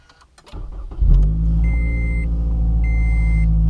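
A car engine cranks briefly and catches, then settles into a steady loud close idle with a faint high whine riding on top, no talking over it.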